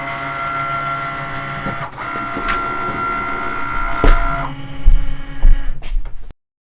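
A Cricut cutting machine loads a mat and starts cutting a circle monogram decal, giving a close, steady motorized whir with a tonal hum and a few soft thumps as the carriage moves.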